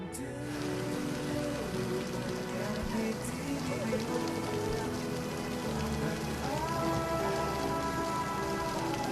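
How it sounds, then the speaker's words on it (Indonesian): Steady heavy rain pours down outside, a dense continuous hiss of drops on surfaces lasting throughout, with faint tonal background sounds beneath the downpour. "Ini tuh lagi hujan."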